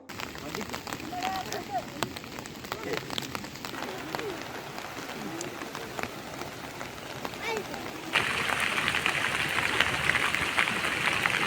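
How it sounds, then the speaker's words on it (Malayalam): Steady heavy rain pattering on surfaces in Perinthalmanna, Kerala, dense and continuous, growing louder and hissier toward the end. "ശക്തമായ മഴയിൽ പെരിന്തൽമണ്ണയിലും സമീപ പ്രദേശങ്ങളും വെള്ളത്തിൽ"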